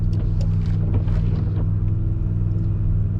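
A car engine hums low and steady in second gear while crawling uphill over wet sand, a constant rumbling drone without revving.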